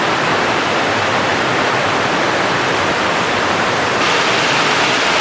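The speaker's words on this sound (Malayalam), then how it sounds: "ചെറിയ ചെറിയ നീർച്ചാലുകൾ ഇങ്ങനെ ഒഴുകുന്നതും ചെറിയ വെള്ളച്ചാട്ടങ്ങൾ ഇങ്ങനെ വരുന്നതും" Small waterfalls and streams flow through a forest near a village, making a steady, loud broadband rush of falling water that holds unchanged throughout with no voices.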